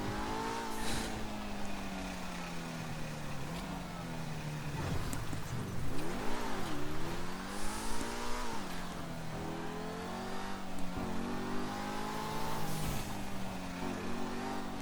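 A fast car in the video game GTA 5 Online drives and revs continuously, the engine pitch climbing and dipping through gear changes with a sharp surge midway, loud and close with no talk.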